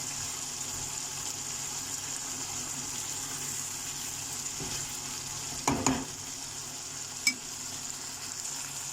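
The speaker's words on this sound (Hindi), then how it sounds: "टमाटर को थोड़ा मैश करके चलाएं।" Tomatoes frying in a pan with a soft, steady sizzle, broken by a few scraping stirs and mashing knocks, close but fairly quiet.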